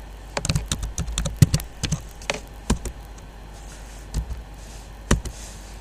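Someone types on a computer keyboard while working in KiCad, producing irregular, fairly quiet clicks and taps, some in quick bursts and others spaced apart, with no talking.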